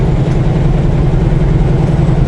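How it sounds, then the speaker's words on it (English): Cummins diesel engine in a semi truck idling, a steady low rumble that holds evenly throughout, close and continuous with no speech. "the engine is just beautiful"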